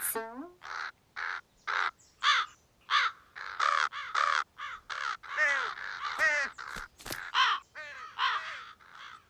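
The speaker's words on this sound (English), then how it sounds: "Now there's five crows." A series of loud, close crow caws in quick succession, harsh and repeated with short pauses between calls, no talking.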